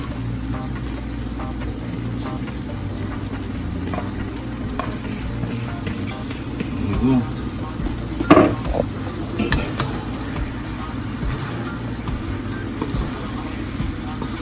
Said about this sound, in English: We're gonna add our rice so it can go on fry.